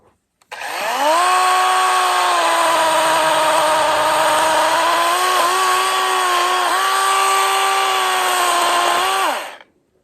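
A DEWALT 20V MAX XR cordless brushless 12-inch chainsaw runs up and cuts, a loud, close, steady electric whine held for about nine seconds with slight dips in pitch under load, then winding down.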